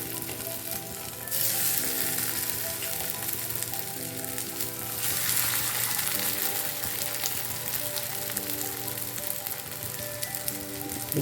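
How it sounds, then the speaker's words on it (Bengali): Jackfruit cutlets sizzle in hot ghee in a kadai, a steady close frying hiss that swells at about one second and again near five seconds as the cutlets go in, with no talking. "এবারে আমি একটা করে কাটলেট ওর মধ্যে বসিয়ে দেব"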